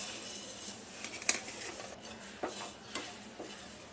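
Cumin and other whole spices dry-roasted in a pan over medium heat, with soft scraping stirs and a few light clinks of utensil on metal, fairly quiet and steady throughout.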